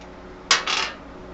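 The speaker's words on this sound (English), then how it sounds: "Pull your bolts out." Metal bolts from a Harley Dyna motorcycle brake mount, pulled out and set down on a hard surface, making two quick close clinks in a quiet room.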